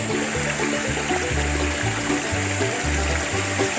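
Water flows in a backwoods stream on an Alabama homestead property, a steady rushing wash that carries on without a break, with a low repeating pulse beneath it and no voices.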